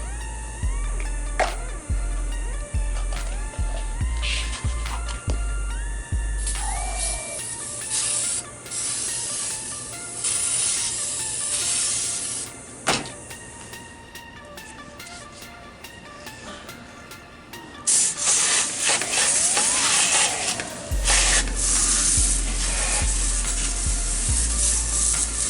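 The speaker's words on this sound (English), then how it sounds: "I'm gonna go ahead and spray some of this stuff down where the oil was" Cleaner sprayed onto spilled engine oil beside a Lexus LS400 during an oil change: repeated hissing spray bursts and rubbing over a steady electronic tone layer, loud and close, with no talk.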